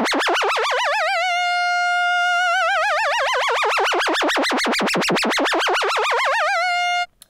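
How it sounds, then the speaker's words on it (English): A sustained synthesizer note from a song part, with the mod wheel fully open so an LFO swings pitch and filter cutoff in deep, rapid wobbles that widen and narrow over about seven seconds, heard alone and ending abruptly. "So that's an LFO that's controlling the pitch amount and the cutoff amount."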